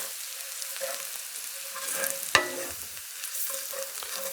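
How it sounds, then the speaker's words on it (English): Shallots and garlic sizzle gently in a heavy saucepan while a utensil stirs them, with a soft steady frying hiss and one sharp scrape of the spoon against the pan partway through. "I'm gonna give this a stir. We're gonna let this cook until the shallots and the garlic are soft."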